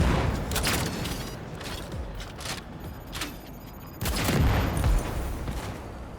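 Shotgun blasts in a video game firefight on very hard difficulty, several loud, booming shots at irregular intervals amid dense battle noise, with a heavy blast near the end.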